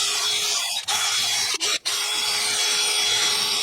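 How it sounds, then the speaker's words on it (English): A power tool with a brush works the brake pad contact surface on a 2002 Dodge Dakota SXT front brake, a steady close whirring buzz with a few brief dropouts as it lifts off. "I'm also just going to brush this surface here where the edge of the pads ride."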